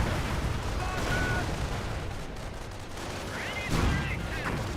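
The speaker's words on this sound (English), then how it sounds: "Hellcats firing away, getting some good hits on the Panther" Hellcat tank destroyers firing on a Panther in the WW2 strategy game Company of Heroes, amid a thick wash of battlefield gunfire with a louder shot near the end.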